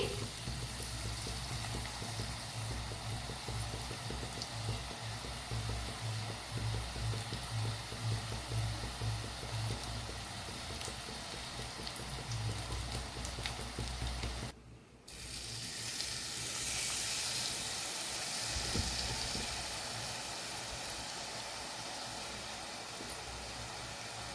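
Jhuri bhaja, thin gram-flour strands pressed through a glass instead of a machine, fries steadily in hot oil with a continuous crackling sizzle that pauses briefly partway and then resumes, with no talk.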